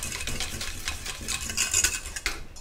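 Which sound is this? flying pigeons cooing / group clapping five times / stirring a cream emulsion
stirring a cream emulsion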